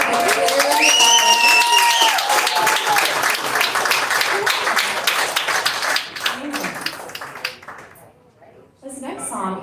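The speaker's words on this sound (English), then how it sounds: "can we give her another round of applause?" Audience applause for a songwriter at a Nashville songwriters-in-the-round show, loud and dense at first with a sung or sustained tone over it, then thinning out into scattered claps.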